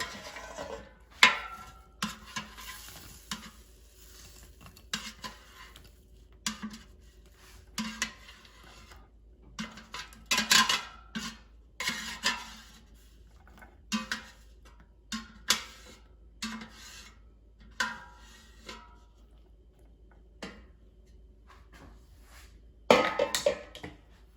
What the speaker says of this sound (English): Now I will transfer them to the bowl.